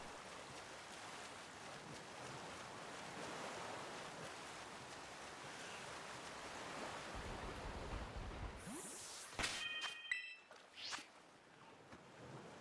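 Water sloshes and splashes softly in the Pokemon Scarlet & Violet video game, a faint wash of waves and wind-like hiss, followed by a few sharp game chimes and clicks near the end.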